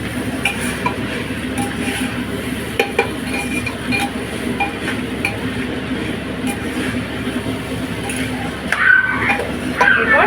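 Crab pieces are stirred in a pan with Kashmiri chilli and spices, giving a continuous close scraping and clinking of utensil on metal with the soft hiss of frying underneath, and faint voices in the background.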